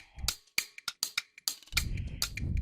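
A producer's drum loop from a downloaded kit, programmed in FL Studio for an Afrobeats and dancehall beat, plays alone with crisp repeated hits and a deep bass-heavy layer entering midway.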